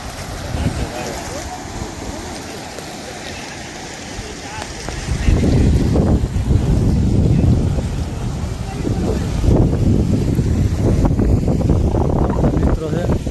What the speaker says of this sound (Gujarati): એટલું પાણી જાય છે જો.